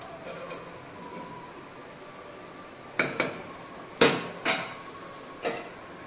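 A metal lid goes onto a cooking pot of Sri Rama Navami pongal, giving a handful of near, ringing clanks spaced apart over quiet kitchen background.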